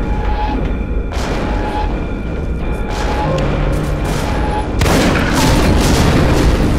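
Explosions from shot fuel barrels killing guards in a fuel storage area of the stealth game Velvet Assassin: a loud, continuous roar of blasts and rumbling, with a fresh, heavier surge of detonation near the end.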